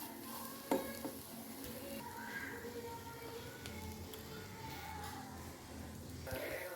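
Onions being stirred as they fry in a pan for a flat bean curry, a steady sizzle with scraping stir strokes throughout and one sharp knock near the start.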